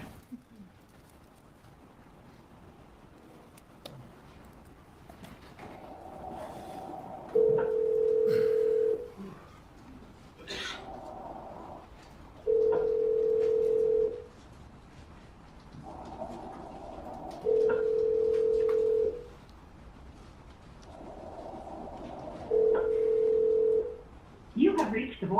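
An outgoing phone call ringing before going to voicemail, four evenly spaced long ring tones about five seconds apart, heard faintly through a courtroom playback with a low background hum.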